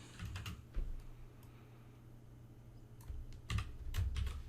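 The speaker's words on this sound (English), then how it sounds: "Let me type that on here." Someone types on a computer keyboard during a lecture on walls and components, with soft rapid key taps over a steady low room hum and a few louder keystrokes.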